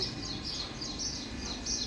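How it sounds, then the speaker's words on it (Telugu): Several birds in a tree chirp and tweet in quick, repeated bursts, fairly close, over a steady low background rumble. "పిట్టలు చాలా ఉన్నాయి పైన ఇక బాగా సౌండ్ వేస్తున్నాయి"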